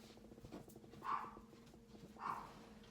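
Dogs at home give two brief, muffled whimpering yelps about a second apart, heard faintly from another room over a low steady background hum.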